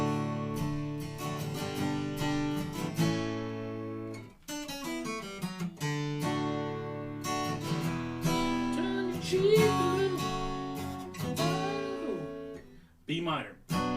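An electric guitar strums the chord progression of a song, close and steady, with a voice singing or humming over the chords and brief gaps between phrases.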